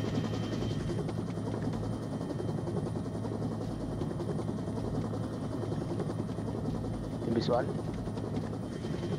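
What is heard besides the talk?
helicopter approaching in Onward video game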